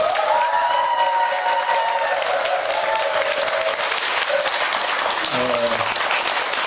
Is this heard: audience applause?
yes